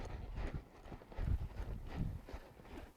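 A horse moves across a barrel-racing arena, its hooves thudding in a quick, uneven clip-clop rhythm at moderate distance, with no talk.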